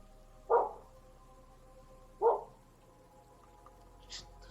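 Dog barking: two loud single barks about two seconds apart against a quiet room background, followed by a faint higher yelp.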